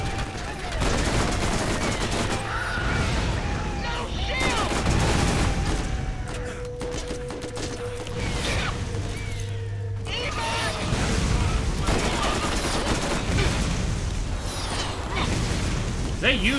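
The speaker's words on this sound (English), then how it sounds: "He's shooting the missiles." Rapid bursts of missile fire and gunfire in Borderlands gameplay, a dense, continuous barrage of pops and booms with engine-like drones underneath, while players talk over the action.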